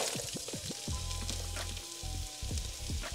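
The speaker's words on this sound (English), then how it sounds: "So just add in the onion first, the green onion, the white part first, and then you add the garlic" Green onion whites and garlic sizzle in a hot pan, a close, steady frying hiss with bright crackles and pops, and no talk over it.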